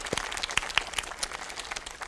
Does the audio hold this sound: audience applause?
yes